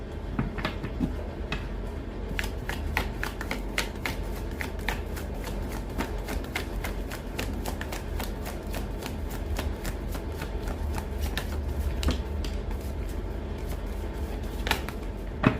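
Close hand shuffling of a tarot deck, a steady stream of sharp card flicks and papery riffles repeating evenly and fairly loudly throughout.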